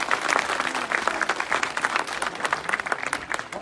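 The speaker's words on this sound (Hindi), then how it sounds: "जोरदार तालियां होनी चाहिए।" A crowd at a political welcome gathering at Jagdamba Market claps loudly, with sharp individual hand claps standing out from the continuous applause, fairly close and sustained.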